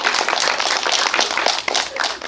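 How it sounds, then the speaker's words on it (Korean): Audience at a Korean film screening Q&A claps for the filmmakers and cast, brisk individual hand claps forming a lively, uneven patter close by. "박수 부탁드립니다."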